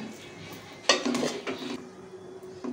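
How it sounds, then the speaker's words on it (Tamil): Fried egg pieces stirred into egg fried rice in a pan, with a few close bursts of metal scraping and clatter against the pan over low kitchen background, and no talking. "பொறிச்சு வச்சுருக்க முட்டைகளை கொஞ்சம் கொஞ்சமாக சேர்த்து நல்லா மிக்ஸ் பண்ணி விட்டுக்கலாம்."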